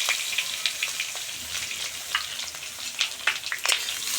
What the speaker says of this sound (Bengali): কেটে রাখা বেগুনগুলো তেলের মধ্যে দিয়ে ভালো করে ভেজে নেব